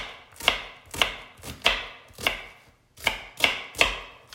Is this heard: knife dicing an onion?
yes